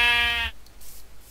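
A sheep in modded Minecraft gives one loud, close bleat lasting about half a second, then fades into faint quiet background.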